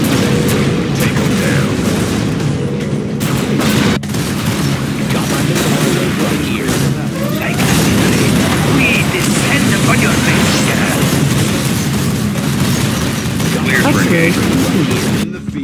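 Constant booming explosions and fireball blasts roll through a Command & Conquer Generals Zero Hour battle, loud and dense from start to finish, with gunfire-like rumble and voice lines talking over the din.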